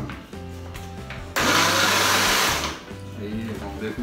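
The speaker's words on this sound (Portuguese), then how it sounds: "Vamos ver se o liquidificador daí vai aguentar" A blender mixing ice cream and milk runs in loud bursts. There is a steady motor hum at first, then a harsh roaring surge for over a second, then the hum drops back and continues.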